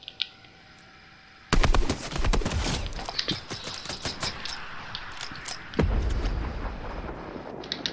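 After a quiet start, video game gunfire erupts in a sustained, loud stream of sharp shots with uneven spacing, then a heavier blast near the end followed by continuing reports.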